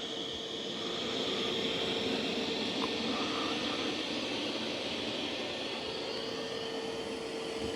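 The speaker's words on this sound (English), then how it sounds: "But it is doing an excellent job vacuuming." A Dreame Matrix 10 Ultra robot vacuum cleans carpet with a continuous whirring suction hum, steady and fairly faint, with a faint tonal whine running under the noise.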